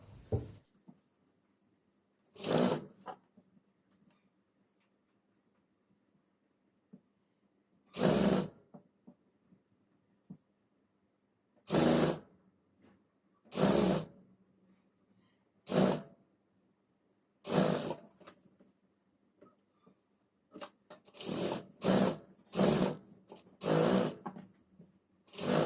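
A sewing machine stitches the seat seams of lined women's straight pants, running in short separate bursts with quiet pauses between them, then in a quicker run of bursts near the end, close and fairly loud.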